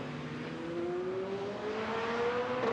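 LMP2 prototype race cars passing during the 4 Hours of Portimão endurance race, a distant engine drone whose pitch climbs steadily as the cars accelerate, moderately faint and continuous with no talk.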